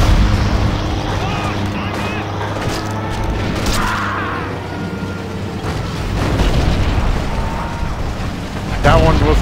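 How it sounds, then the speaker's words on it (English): Heavy booms and rumbling blasts fill a World War II battle at the Siege of Tobruk in Forgotten Hope 2, with one large explosion rolling out among sustained loud combat noise and a sharp burst near the end. "That one was a big explosion."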